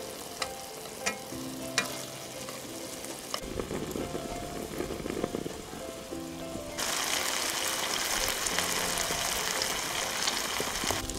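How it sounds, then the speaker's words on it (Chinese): Food pan-frying until golden on both sides sizzles in a hot pan, with a few sharp utensil knocks early on, and the frying grows louder and denser in the last few seconds. "已经可以转过来了，煎到这一面金黄色。"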